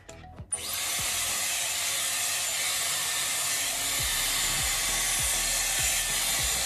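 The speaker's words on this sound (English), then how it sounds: "then I'm going to blow dry this back so you've got some root lift at the crown" Dyson Airwrap with a round brush attachment blow-drying hair, a loud steady airflow roar starting after a brief clatter and running unbroken, with faint low knocks as the brush moves through.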